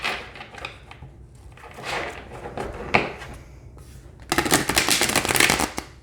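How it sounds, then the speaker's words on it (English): Tarot cards are shuffled in a few quick riffles with pauses between, ending in a longer, louder burst of rapid shuffling close by. "Okay, let's shuffle."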